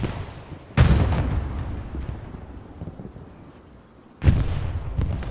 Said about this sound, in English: Artillery rounds come in from, it looks like, OFIN on that MG house.